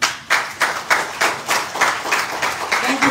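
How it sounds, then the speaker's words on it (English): An audience at a live business training event claps in a steady rhythmic beat, about ten evenly spaced rounds of clapping, moderately loud with no talking. "Can we have a big round of applause for them?"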